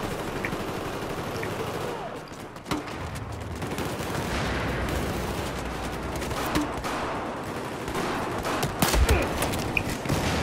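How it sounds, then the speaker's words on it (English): Rapid gunfire from a video game sniper battle fills the scene: dense bursts and sharp repeated shots over steady background game noise, with a voice faintly audible beneath. "I'm sniping off the fucking escalator system"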